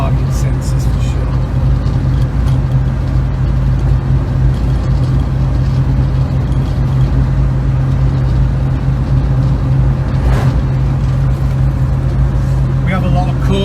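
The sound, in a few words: 1967 Volvo 122S Amazon Wagon driving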